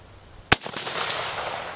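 A Japanese rifle firing a 150-grain soft point round outdoors in a storm: one sharp, loud report followed by a rolling echo that fades over wind and rain noise.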